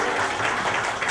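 Children at an SOS children's village applaud Alianza Lima forward Johnny Vidal, a brief, loud, dense burst of clapping filling the whole moment.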